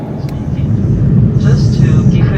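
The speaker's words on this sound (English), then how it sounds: "currently we're taxiing towards the takeoff runway" A Singapore Airlines jet taxis toward the takeoff runway, heard from inside the cabin as a steady low engine rumble with a faint higher whine drifting over it.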